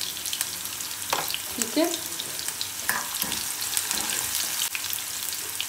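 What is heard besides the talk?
sliced onions frying in desi ghee for a tadka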